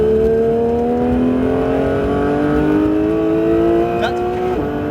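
A Porsche 911 GT3 engine revs hard and climbs in pitch as it accelerates on the Mireval circuit, loud and close, with a brief squeal near the end.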